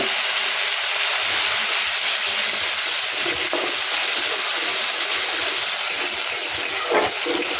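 Spices with ginger and onion stir-fried in a pan over medium heat, a loud, dense, continuous sizzle with occasional soft stirring knocks.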